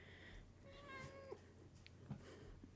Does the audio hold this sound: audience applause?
no